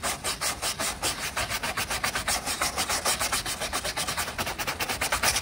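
Old residue being rubbed off a part of a 1995 Toyota Corolla, a rapid, regular back-and-forth scrubbing rasp repeating many times, close and steady with no talking.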